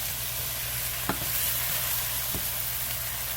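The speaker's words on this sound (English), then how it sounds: "You get them all stirred up in there really good. Make sure that olive oil gets on it as well." Chicken stirred in olive oil in a pan for a chicken and rice casserole, a steady sizzle with a couple of soft spoon scrapes, close up with no voices.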